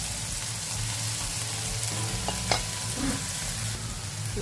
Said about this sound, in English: so you're going to mix those saltfish pieces in. Just stir them around.